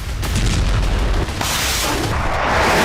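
Heavy booming blasts from a drone attack on Belgorod, deep rumbling explosions that roll into one another, loud and sustained with a fresh burst midway, and no voices over them.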